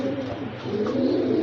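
Breeding pigeons in a Bangladeshi loft, zigzag-eyed birds sold in pairs, coo steadily in a continuous, close, fairly loud chorus of low throaty burbles with no talk.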